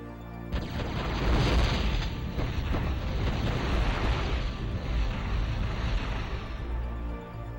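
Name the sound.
explosive shotgun blasts in a video game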